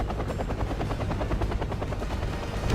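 Helicopters in the war strategy game Wargame give off a loud, steady rotor chop with rhythmic thudding beats throughout, dense and close with faint gunfire-like crackle mixed in.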